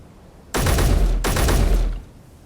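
Loud, close gunfire in a video game, two sustained rapid bursts separated by a brief gap, each lasting under a second.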